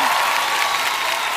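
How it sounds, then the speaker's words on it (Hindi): Brief burst of audience applause for Bhuvan ma'am at a comedy show, a steady, fairly loud wash of many hands clapping over a short stretch. "भुवन मैम के लिए जोरदार तालियां"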